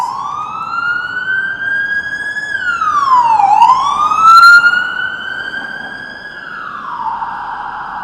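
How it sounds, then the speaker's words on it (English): A loud police siren wails nearby on a Toronto street in the evening, its pitch sweeping down and back up in long glides, with traffic rumbling underneath. "the sound of the emergency sirens"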